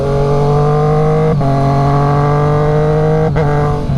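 A Triumph Street Triple RS motorcycle engine on the move, a loud steady close drone that dips briefly twice as the throttle shifts, with no speech.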